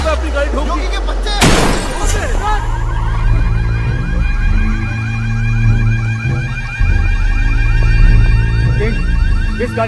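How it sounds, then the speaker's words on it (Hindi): A car is smashed into in a Hindi-dubbed action comedy film: a sudden loud crash with shattering glass, followed by a wailing alarm-like tone over busy scene noise and voices. "अब अपनी गाड़ी ठोक दी।"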